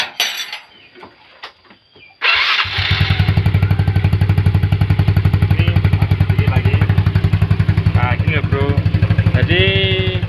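A motorcycle that has become hard to start and is due for a piston replacement catches after a brief start attempt, then settles into a loud, steady, close idle with a rapid even pulse.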